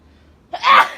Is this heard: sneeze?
yes